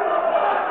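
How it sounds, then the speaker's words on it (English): Wrestling crowd at a show in Van Nuys, California, cheering and booing at once, a brief dense burst of massed voices filling the space. "listen to this crowd here in Van Nuys, California. Approval on one side and disapproval for that man right there"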